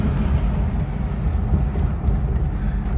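A 1962 Bentley S2 Continental Flying Spur with HJ Mulliner coachwork cruising at about 40 mph, giving a steady low engine and road rumble with continuous tyre noise throughout.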